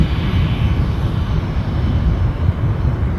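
Airliner in Star Alliance livery at Düsseldorf airport, its engines a steady, loud, continuous roar with no breaks, fairly close and heard alone.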